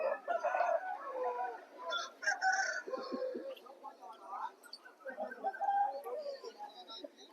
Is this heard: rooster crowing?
yes